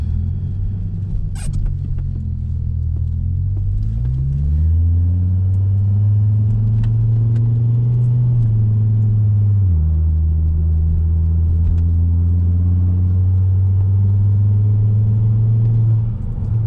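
A 2007 Volvo S40 T5 with a muffler delete drives along, its engine giving a loud, steady low rumble that steps up through gear changes and holds a deep drone throughout, with no talking.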